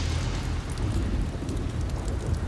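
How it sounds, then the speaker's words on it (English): A deep roll of thunder rumbles through the Amazon during a thunderstorm, a heavy, sustained low boom filling the whole moment without any break. "That was the biggest roll of thunder I've heard in years."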